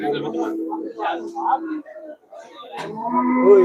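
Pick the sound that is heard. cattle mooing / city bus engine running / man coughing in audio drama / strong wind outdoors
cattle mooing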